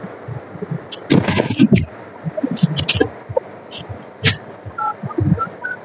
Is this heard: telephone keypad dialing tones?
yes